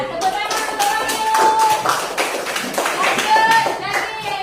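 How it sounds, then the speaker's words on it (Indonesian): Audience of teachers in a classroom clapping steadily for a participant, a dense run of handclaps at close range with talk from voices over it. "tepuk tangan untuk Wahyu"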